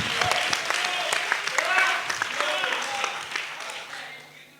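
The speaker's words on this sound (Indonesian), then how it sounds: "Berikan tepuk tangan." Applause from an audience at a church organization's plenary session swells steadily for several seconds, mixed with cheering and many overlapping voices, then tapers off near the end.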